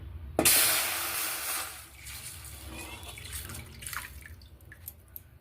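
A milk and water mixture pours into a pan for making sajjige, starting with a loud close splash, then easing into softer trickling and dripping.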